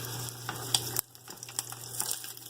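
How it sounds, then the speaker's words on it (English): An onion and apple jam simmers on low heat in a pan with a soft, steady sizzle, broken by a few light clinks and a brief drop in level partway through. "we're just going to keep cooking this on low, just let it simmer out until basically all this moisture is gone"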